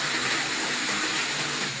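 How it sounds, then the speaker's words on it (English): Water rushes into a brewing mash tun, making a steady, loud, close hiss of flow with no breaks and no voices. "We can see that the water is going into the mesh tone."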